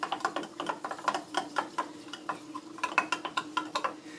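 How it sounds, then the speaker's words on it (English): A spoon clinks repeatedly against a dish while stirring chia seeds into mango pudding, a quick irregular run of light taps and scrapes, close and fairly quiet, with no talking. "go ahead and give it a little stir"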